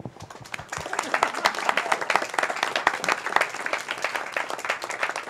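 Audience applause at a public conversation event on Messeplatz, a dense patter of hand claps rising after a few scattered opening claps and holding steady, fairly close and full.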